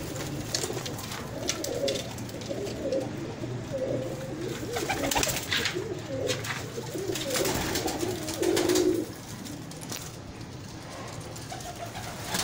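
Breeder pigeons coo in a loft in Bhati Gate in inner Lahore, soft repeated throaty calls close by, overlapping one another, with rustling and faint background noise.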